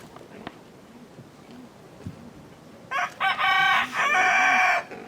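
Faint outdoor ambience and a few soft clucks, then a rooster crows loudly nearby in a long, harsh call.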